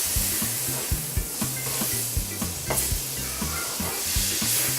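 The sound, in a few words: butter sizzling as it is spread with a spatula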